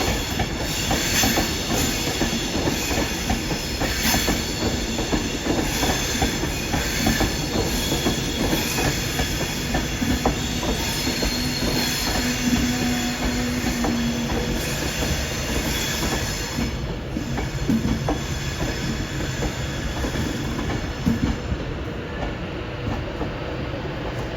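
A train running through Carlisle station, loud and close, with steady wheel rumble, rhythmic clicking over the rail joints and a brief squeal partway through, sustained for the whole stretch without talk.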